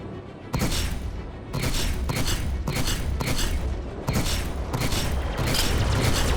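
Starship shields taking fire in Star Citizen: a barrage of loud, crackling blasts and impacts hammers in repeated bursts, each hit flaring up over a constant mechanical rumble.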